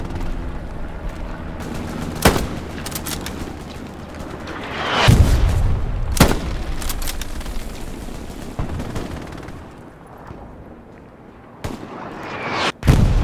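Machine gun fire in the World War II shooter Hell Let Loose, positioned in a church: heavy bursts and booming distant shots cracking out at irregular intervals across a tense battlefield soundscape.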